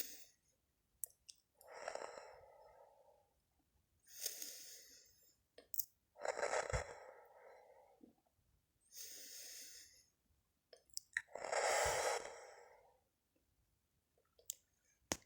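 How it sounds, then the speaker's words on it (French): Slow, deep breathing during a calm sophrology relaxation session, several long breaths in and out alternating at an even, unhurried pace, close and soft, separated by near-silence and faint clicks. "J'inspire le positif et j'expire le négatif."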